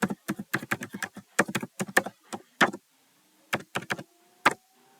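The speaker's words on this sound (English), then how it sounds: "I'm going to enter my password" Password being typed on a computer keyboard, a quick run of sharp key clicks in irregular bursts with short pauses, close and fairly quiet with no talking.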